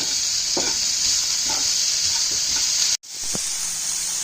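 Onions for a Rajasthani pyaz kachori filling sauté in a pan, giving a loud, steady sizzle with a few soft scraping stirs, briefly cut out near the end before resuming.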